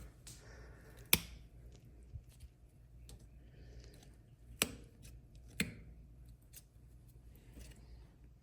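Rose stems being cut with pruning shears while unpacking and planting Palatine roses: three or four sharp, isolated snips spaced a second or more apart over a quiet background.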